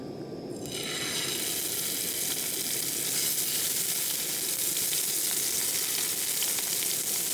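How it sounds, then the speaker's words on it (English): Wood pigeon and rabbit fry in a hot pan: a loud, even sizzle hisses on without pause after a quieter start, close by, with no one speaking. "We're going to fry up a bit of wood pigeon, a bit of rabbit, a little bit of herbage."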